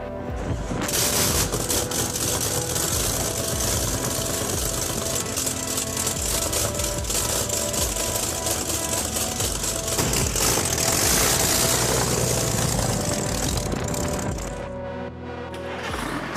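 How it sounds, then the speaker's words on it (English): Detroit Diesel heavy industrial engine, 453 T and V92 TA blocks, running in an engine room: a loud, constant screaming roar that holds steady, then drops off near the end. "the deafening, screaming sound range of the Detroit Diesel 453 T and V66 V92 TA blocks like giant chainsaws"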